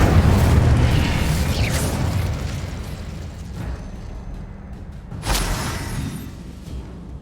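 Fiery Incendio spell blasts from the Hogwarts Legacy video game: a loud, dense burst of booming explosion that slowly decays, then a second sharp blast about five seconds in, rumbling on afterward.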